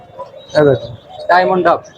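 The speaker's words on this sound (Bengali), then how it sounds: "ডায়মন্ড ডাব আছে এই পর্যন্ত কেউ টেম করাতে পারেনি" Diamond doves coo in a bird-keeping setting, two soft cooing bursts close by, with voices talking nearby.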